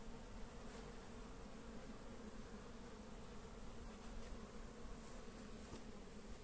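Honeybees in an open beehive give off a continuous, even drone, steady and fairly quiet with no voices.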